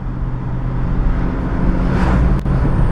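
1982 Ford Landau with automatic transmission driving in second gear, a smooth steady engine and road hum heard from inside the car, loud and continuous with little variation.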